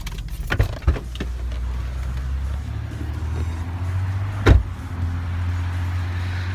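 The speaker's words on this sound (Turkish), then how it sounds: "Şimdi arabayı park ediyoruz." A car pulls in to park after dark outside a Noodles and Company restaurant in America, with a low engine hum, a couple of sharp clunks early on and another thump near the end.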